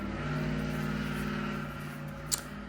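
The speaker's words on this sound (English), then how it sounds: "Somebody's out there with their loud old car." An old car engine outside, loud and steady, its low rumble running throughout with a possible slight rev, distant yet strong, with no talking over it.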